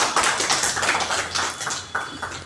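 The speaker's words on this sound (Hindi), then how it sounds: "सर के लिए आपकी जबरदस्त ताली के साथ।" A seated audience breaks into applause at a Hindi business presentation for a product, many hands clapping in a dense, steady patter that swells and dips over a couple of seconds.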